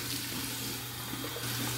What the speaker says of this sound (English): Here is my warm water rinse.